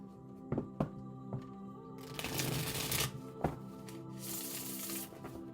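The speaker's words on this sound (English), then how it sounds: "I think I'll actually shuffle once or twice first." Tarot cards are shuffled by hand, a few soft taps early on, then two riffling bursts of rapid card flutter, close and quiet, against a faint steady hum.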